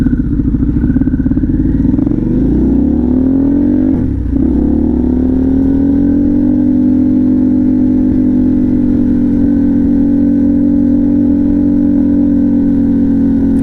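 Harley-Davidson Pan America motorcycle engine running at a high idle once warmed up, a loud steady close-up drone that dips briefly around four seconds, then settles into a constant even hum.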